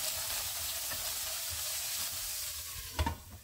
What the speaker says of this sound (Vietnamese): Rồi thả tàu hủ tiêu của mình vào.